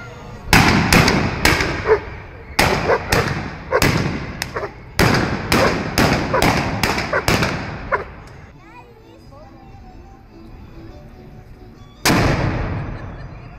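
Re-enactors in period uniform fire a bronze cannon and rifle volleys in a town centre during a national holiday event: a rapid run of loud, sharp blasts and cracks, a lull with crowd noise, then one last big boom.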